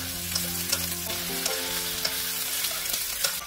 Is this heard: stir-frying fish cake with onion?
yes